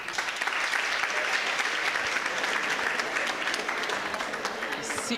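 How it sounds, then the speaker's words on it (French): Audience applause for Saïbou at the closing and judging of a university sociology exhibition, a dense, steady wash of many hands clapping that holds at an even level throughout. "Applaudissements par Saïbou, pour Saïbou."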